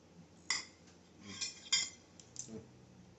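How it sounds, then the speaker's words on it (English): A fork clinks against a plate while stabbing into steak at a steak-and-shrimp meal, giving a few sharp separate clicks and scrapes, close and fairly quiet. "I just stabbed mine with the fork"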